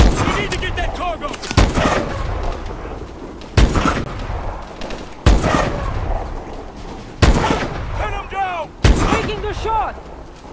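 Gunfire and heavy explosive bursts in the video game Call of Duty Advanced Warfare during a cargo crash mission, loud booming shots recurring every couple of seconds amid rattling fire, with game voices shouting over the combat.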